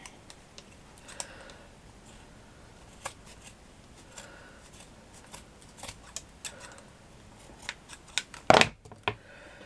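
Scissors snip through paper flower material in a quiet room, giving a scattering of small crisp clicks and cuts with one louder burst of rustling snips near the end, and no talking.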